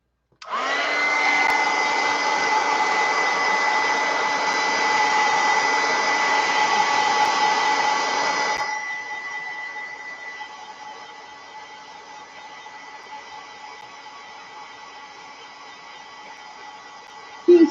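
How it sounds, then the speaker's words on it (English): A hair dryer blows steadily over a piece of mixed media art, a loud continuous whooshing whine that drops to a lower setting midway and keeps running, ending with a brief clunk. "So now I'll just dry that."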